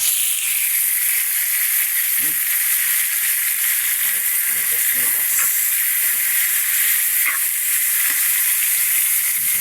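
Pork sautés in a hot pan with a steady, bright sizzle and hiss, close and loud throughout, with faint clinks and a voice occasionally heard underneath.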